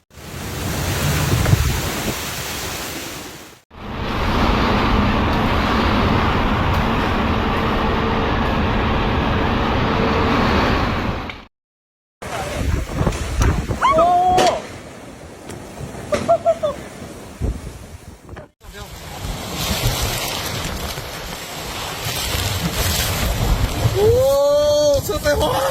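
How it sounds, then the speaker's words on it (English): Typhoon Gaemi lashing Taiwan with wind and rain: steady roaring rush of wind and downpour in long loud stretches, broken by brief cuts, with a few faint whistling or squealing tones in later sections. "Typhoon Gaemi's wind circle currently covers most of mainland Taiwan."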